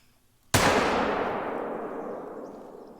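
A single loud rifle shot fired at long range in the hunting game theHunter: Call of the Wild, a sharp crack followed by a long echoing rumble that fades over a few seconds.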